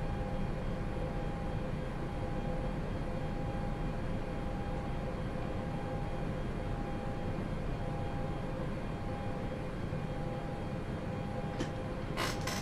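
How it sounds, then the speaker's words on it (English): An Airbus A320 in the X-Plane flight simulator spools its engines for a standing takeoff with a constant loud, dense roar and whine that stays even throughout. "We'll do a standing takeoff."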